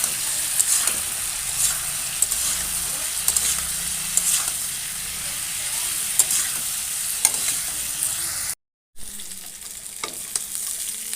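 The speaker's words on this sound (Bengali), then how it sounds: "দেখো সব সবজিগুলো ভালোভাবে ভেজে নিয়েছি।" Mixed vegetables fry with turmeric and salt in a pan for a fish curry, making a continuous close sizzle broken by repeated stirring scrapes and clicks, with a brief cut to silence near the end before the frying resumes.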